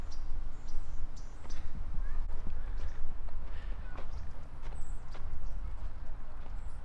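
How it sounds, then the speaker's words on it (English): A horse walks past outdoors, its hooves clip-clopping in a steady, fairly close rhythm over a constant background murmur, with faint bird calls. "There's a horse coming."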